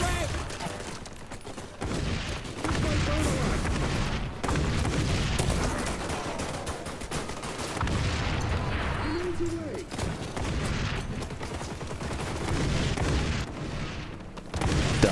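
Grenade blasts and gunfire in an XDefiant match, steady dense battle noise with repeated booms and shots throughout, and a player talking over the action.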